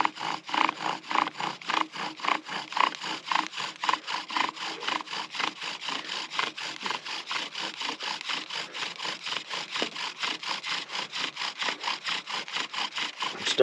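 A bow drill saws back and forth, its wooden spindle grinding against a wooden fireboard in steady rapid strokes, a close, continuous rasping rhythm throughout with no voices.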